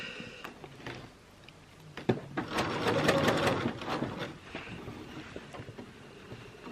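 A sewing machine stitches fabric under the presser foot while a bodice is sewn, a fairly quiet rapid mechanical whir that speeds up and slows in short runs.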